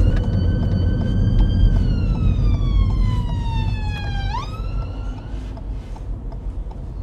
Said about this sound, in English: There's an ambulance approaching behind us, with its flashing blue lights and siren.